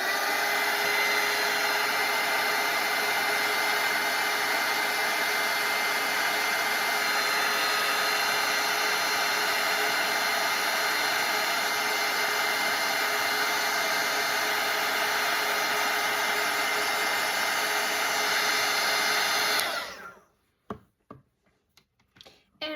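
A hair dryer blows a steady, loud, continuous whir over watercolor paint on paper for about twenty seconds, then switches off and leaves a few small taps and handling noises.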